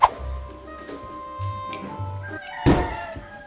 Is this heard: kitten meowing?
yes